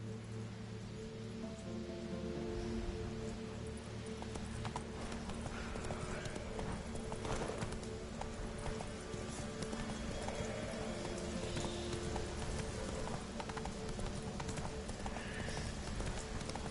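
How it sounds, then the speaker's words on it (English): Horse hooves clip-clop steadily in The Witcher 3: Heart of Stone, a continuous rhythmic trotting over dense ambient game noise, with a brief horse snort. "Whoa there, Roach."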